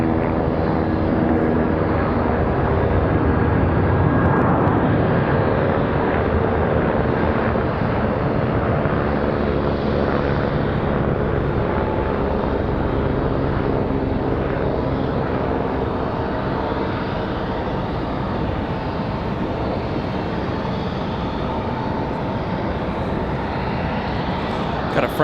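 A Frontier Airlines airliner moves about at Raleigh-Durham airport, its engines giving a loud, steady roar that holds for the whole stretch and eases slightly toward the end.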